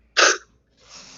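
A single sharp sneeze bursts out loudly and close, followed by a softer breathy exhale or sniff after a short pause.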